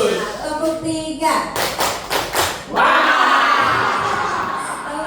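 Classroom of children doing a three-beat group clap pattern, several loud unison claps in a row, followed by a burst of cheering and shouting from the kids; a teacher's voice is heard before the claps.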